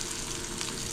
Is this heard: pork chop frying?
yes